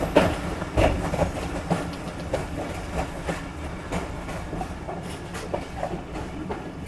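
A passenger train rolls along the rails between Lahore and Rawalpindi, its wheels clattering in a steady rhythmic clickety-clack with a continuous rumble and hiss of the carriages, close and fairly loud throughout.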